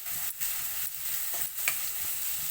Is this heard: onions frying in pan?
yes